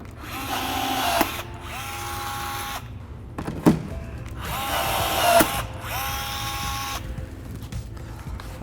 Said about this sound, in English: I'm simply gonna pass my drill through it